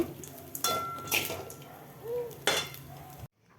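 Coconut rice being stirred in a metal pan, with several scraping clinks and utensil knocks against the pan, close and fairly quiet, then ending in silence.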